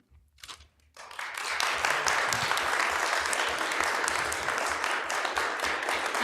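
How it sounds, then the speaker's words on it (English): Audience applause fills county commissioners' meeting chambers at a special board meeting, starting after a brief quiet pause with a short burst, then swelling into steady, dense clapping that continues to the end. "we don't allow clapping and demonstration of approval in the chambers"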